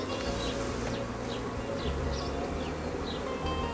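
Honey bees buzz around an open hive as queens are marked, a dense, continuous drone with individual insects whizzing past close by.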